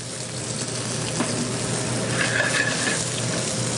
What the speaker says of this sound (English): Again, some caramelized shallots. This will help round out the flavor. Quick saute on them.